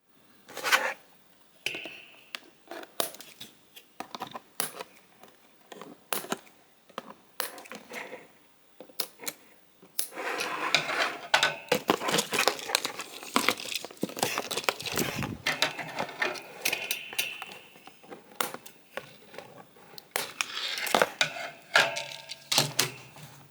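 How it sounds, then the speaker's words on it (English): Blades snip and tug at plastic ties and cardboard while a boxed 1986 Studio Series Leader Class G1 Megatron action figure is cut loose from its packaging, giving scattered close clicks and crackles that grow denser and busier in the second half. "So let's quickly cut the figure loose."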